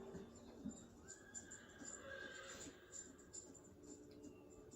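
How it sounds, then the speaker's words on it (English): A wild mustang whinnies at a distance over outdoor background noise, with a high drawn-out neigh rising above faint rustling and murmuring. "Horses."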